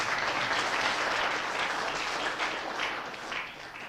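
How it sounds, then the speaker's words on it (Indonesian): Steady applause from an audience honouring Pak Cipto at a sales meeting, a dense wash of clapping held at an even level throughout with no speech over it. "Tepuk tangan untuk Pak Cipto"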